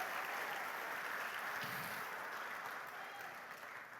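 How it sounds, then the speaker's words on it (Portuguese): Church congregation clapping together, a dense, even applause that holds steady and then tapers slightly toward the end. "Se você recebe, dê um aplauso ao Senhor."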